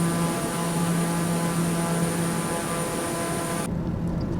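An aircraft takes off in Microsoft Flight Simulator, its engine drone loud and steady with a propeller-like hum, cutting off abruptly near the end; no talking.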